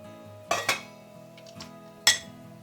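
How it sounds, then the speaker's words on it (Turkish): A large cooking pot set down on a stovetop while making Turkish chicken paça soup: two close metallic clanks, then a single clank a moment later, loud and near with no talk. "Büyükçe bir tenceremi ocağa alıyorum."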